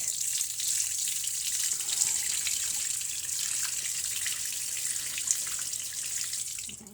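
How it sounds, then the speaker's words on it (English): Water poured out of a bucket at an aquaponics setup, a continuous hissing gush with splashy texture lasting several seconds, steady and fairly close before tapering off. "I'm going to dump some of this water out"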